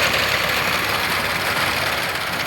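A tractor engine idles in a millet field, giving a steady, close, low mechanical rumble with a faint knock that never changes in pitch or loudness.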